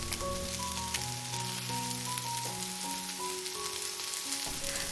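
Crushed garlic frying in a pan for a summer vegetable frittata, a steady close sizzle with a fine crackle running without a break, a few soft tonal notes drifting over it, no voices.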